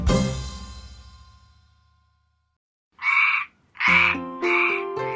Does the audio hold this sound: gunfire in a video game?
no